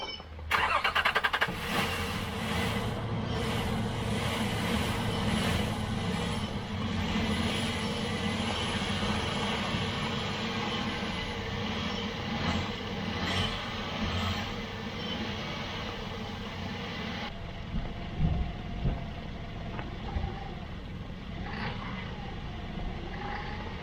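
A Nissan Pathfinder's engine cranks, catches and runs at a rough, fluctuating idle close by, its steady low rumble carrying for most of the stretch before fading and changing near the end.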